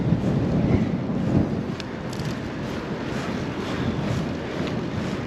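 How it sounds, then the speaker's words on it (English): Steady wind buffets the microphone while riding a bicycle, a low, rumbling roar, constant and close throughout. "Sorry about the wind if you guys can hear it."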